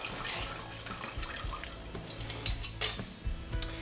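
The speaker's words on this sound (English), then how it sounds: "place that liquid back into this large pan" Braised oxtail juices poured into a large pan, a continuous splashing liquid trickle with small drips and gurgles, close and moderately loud throughout.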